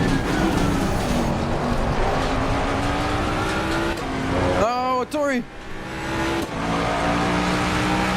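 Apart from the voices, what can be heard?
race car engine in video game Assetto Corsa Competizione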